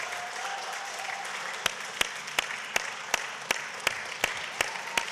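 A few people clapping sparsely in a city council chamber, a series of distinct, evenly spaced single claps over quiet room tone, fairly close and moderate in volume.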